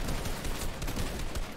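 Fortnite gunfire in a dense, continuous burst of rapid shots, loud and harsh, filling the whole short stretch.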